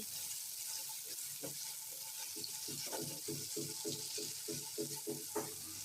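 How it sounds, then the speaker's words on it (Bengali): Chopped potato frying in a pan for upma while being stirred, heard as a soft, continuous sizzle with a quick series of light scraping stirs, faint and close. "এবার আলুটাকে আমি হালকা করে নেড়েচেড়ে নিচ্ছি"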